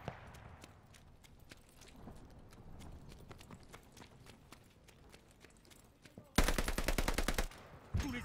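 In the Call of Duty: Vanguard beta, scattered distant shots crackle quietly before a loud, rapid automatic burst of gunfire rattles for about a second, followed by one more sharp hit.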